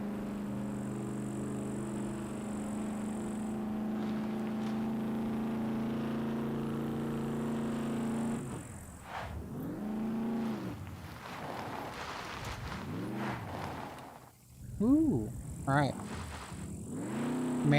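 A truck in the video game SCUM drives with a steady, droning engine hum that holds for several seconds, then a person talks briefly over the fluctuating motor.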